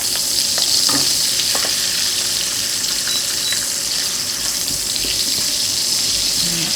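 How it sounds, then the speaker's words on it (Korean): Butter melts in olive oil in a pan with shrimp for a shrimp and asparagus stir-fry, giving a steady, loud, close sizzle with occasional faint clinks. "버터 1스푼을 같이 녹여주겠습니다"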